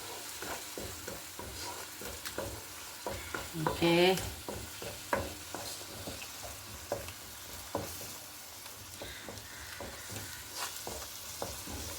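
A coriander leaf mixture with salt heating in a pan, a low crackling sizzle under repeated rhythmic scraping and tapping of a spoon, close and fairly quiet, with no voices.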